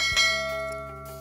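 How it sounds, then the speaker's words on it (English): A single bright notification bell chime strikes once and rings on with a long, clear, fading decay, heard alone. "Hit that notification bell"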